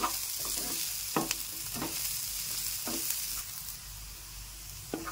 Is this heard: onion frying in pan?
yes